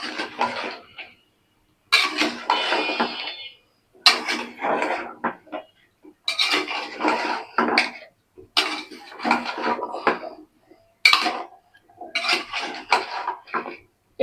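Cut papaya and taro corm pieces drop into a hot oiled pan, giving a series of sharp, close sizzling bursts with clatters of pieces and utensil, separated by brief silences.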